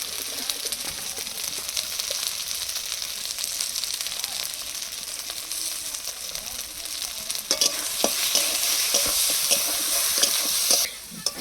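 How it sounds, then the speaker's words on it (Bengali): Spices sizzle steadily in a hot pan while being stirred for a Bengali fish curry, a continuous close frying hiss that grows louder and brighter near the end, with birds cooing faintly in the background. "মশলা খুব সুন্দর করে কষিয়ে নিয়েছি"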